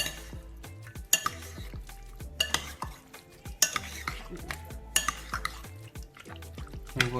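Fish and seafood pastilla filling being mixed in a bowl, with irregular scraping and clinking strokes of a utensil repeating at close range, fairly soft and without any talk.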